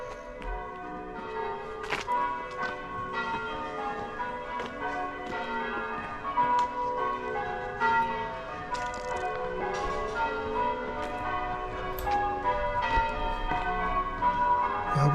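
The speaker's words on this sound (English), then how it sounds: "We're going to end the video now with the church bells in the background." Church bells ringing in Great Cheverell village, Wiltshire, on bell ringers' practice night, a steady overlapping peal of many strikes heard from moderate distance outdoors with no talking.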